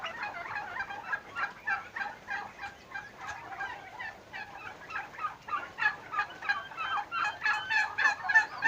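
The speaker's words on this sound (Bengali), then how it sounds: "প্রাপ্তবয়স্ক টার্কি দেখুন।" A flock of adult turkeys on a farm gobbles repeatedly, overlapping bursts of rapid, rattling calls rising and falling in loudness at close range, with no human voices.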